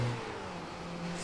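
Motorcycle engine in the video game Sleeping Dogs, a steady mid-pitched engine drone held at moderate level throughout, with a slight rise near the end like light revving.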